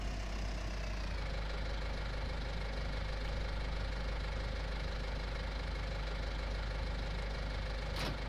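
A tractor engine idles steadily with a low, even drone while reversing toward a header trailer on a farm. It runs unbroken and moderately close, with a brief click near the end.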